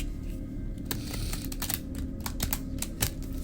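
Fingers rummage and shuffle through an oversized deck of cards, a run of soft irregular clicks and riffles over a low steady background hum, close and fairly quiet.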